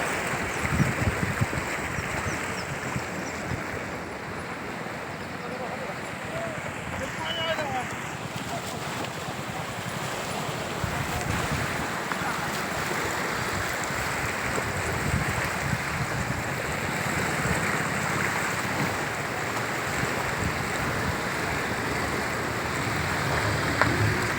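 Kanhola river at Pothare in Karmala taluka runs high after rain, a steady broadband rush of flowing water with gusty wind buffeting the microphone, constant and fairly loud throughout.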